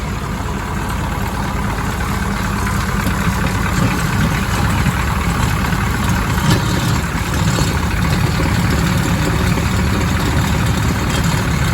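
An engine that had sat unused since 2022 idles close by with a steady, loud, low rumble that stays even throughout, with no talking.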